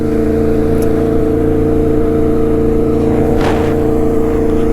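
A vehicle with a steady droning engine holding one pitch close by, then a brief rushing burst partway through as it changes gear and accelerates, no talking.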